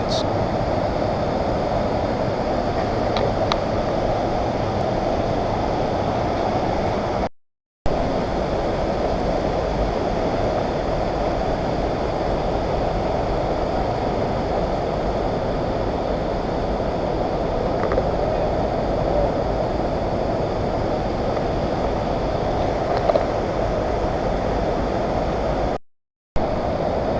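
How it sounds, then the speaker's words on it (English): Waterfalls and river rapids at a mountain gorge, a broad steady roar of rushing water filling the scene, constant and fairly loud with two brief dropouts. "Waterfalls, the river turns into rapids."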